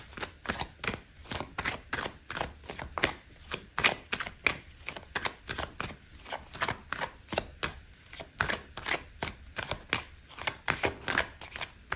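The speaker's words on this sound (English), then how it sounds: "Okay, so I'm going to pull out another card for you." Tarot cards are shuffled and drawn by hand, making a fast, even run of crisp, close papery taps and riffles with no talking.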